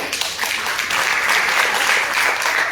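Steady, dense applause from an audience at a stage event honouring Vishwas Thakur, loud and continuous throughout with no break.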